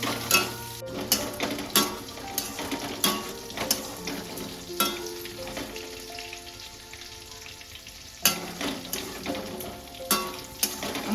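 Potato pieces fry in a pan with a steady sizzle, while a utensil stirs them in repeated scraping strokes every second or two, with a brief quieter stretch midway.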